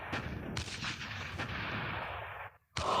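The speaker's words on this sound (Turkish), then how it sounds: "bomba sesleri kulağımı patlatıyor ya" Repeated booming cannon blasts and bomb explosions from the tank video game Tank Hero, heavy overlapping bursts with a brief near-silent gap before another loud hit.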